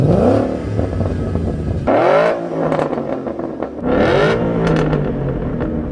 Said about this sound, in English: That's why we make a variety of exhaust systems for street applications.